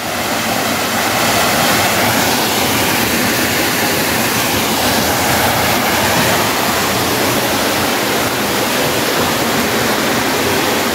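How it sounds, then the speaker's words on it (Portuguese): A small waterfall in a rural Italian-settled town in southern Brazil gives off a steady, full rush of falling water, loud and unbroken for the whole stretch, with no voices over it. "Olha, ali tem como se fosse uma cachoeirinha, ó."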